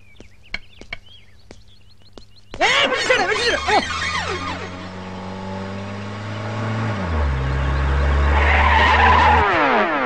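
In a Telugu comedy film scene, a car skids to a halt with loud, sharp tyre squeals that swoop and fade. Engine rumble continues after a quieter opening with a few clicks.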